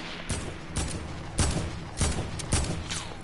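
Video game gunfire in a first-person shooter, about six sharp, loud shots spaced roughly half a second apart in an uneven rhythm, each followed by a brief decay, with no talk over them.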